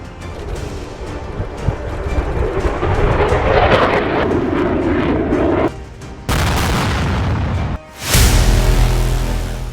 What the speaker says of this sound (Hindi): क्योंकि जंगी जेट F-16 से भयानक हमला हो रहा है।